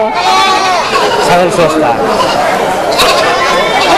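Goats bleat repeatedly at a busy livestock market in Bangladesh, close and fairly loud, mixed with the murmur of crowd chatter and voices.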